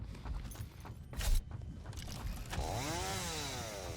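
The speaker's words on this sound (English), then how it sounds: "Don't worry, I have my chainsaw." A chainsaw in the video game Satisfactory revs up with a rising, wavering whine after some footsteps and thumps, running steadily and fairly faint.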